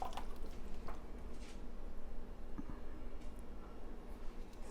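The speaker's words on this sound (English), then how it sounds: "we're getting ready to dump in the tomato sauce" Tomato sauce pours from a can into a cooking pan, a soft, wet dribbling and splattering over a steady low background hum, with no voices.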